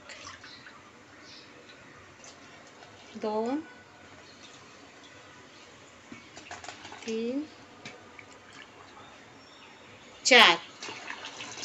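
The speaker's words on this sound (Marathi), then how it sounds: "हे 4 वाटी मी पाणी घेतलंय।" Three brief pours of water from a measuring bowl into a pot, each rising in pitch as it fills, spaced a few seconds apart while a voice counts quietly between them.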